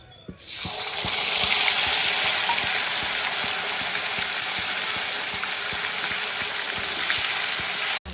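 A ground paste of ginger, dried red chilli and cumin fries in oil for a koi fish curry. A loud, even sizzle starts abruptly and holds steady for about eight seconds before cutting off, with faint utensil taps and no talk.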